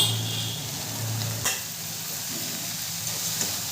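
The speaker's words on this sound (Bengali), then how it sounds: "মশলাটা আমার ভালো করে কষানো হয়ে গেছে, এরপরে দিয়ে দেবো কেটে রাখা লাউটা।" Chopped bottle gourd dropped into spice paste frying in a pan for a Bengali lau chingri, giving a steady close sizzle with a soft thump of the pieces landing early on.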